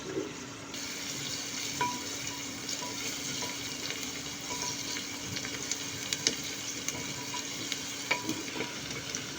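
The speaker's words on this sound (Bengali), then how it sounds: "সেটাকে গোল্ডেন ব্রাউন হওয়া পর্যন্ত ভেজে নিচ্ছি।" A continuous sizzle of onions, bay leaves and green chilies frying in a pan of oil for slow-cooked beef paya, with occasional utensil taps and stirring scrapes, close-miked and free of talk.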